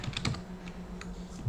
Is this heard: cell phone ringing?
no